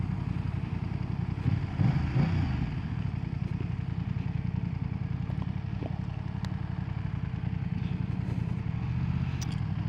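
A 2025 BMW F900R naked roadster motorcycle engine hums steadily while riding, a close, even mid-pitched drone with a light rhythmic pulse and no talking.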